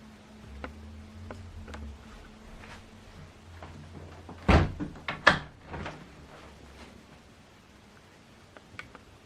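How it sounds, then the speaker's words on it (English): HP OfficeJet Pro 9120e printer restarting itself: faint ticks and low mechanical hum, then a cluster of sharp clunks and rattles from the carriage, fading back to quiet clicks. "It will switch off and turn back itself back on."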